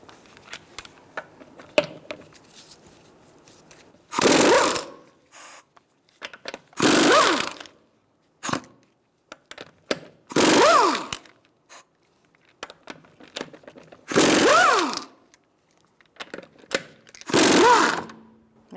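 A power tool with a 21mm socket spins lug nuts off the front wheel of a 2007-2012 Nissan Altima: five loud, separate bursts of about a second each, with quiet gaps and small clicks between them.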